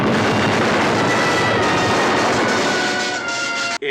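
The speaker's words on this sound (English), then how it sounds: "Warning! Extreme danger! Explosion imminent!" A sustained, roaring blast of broadband noise from a Lost in Space explosion effect, loud and continuous for several seconds before cutting off abruptly, no talking.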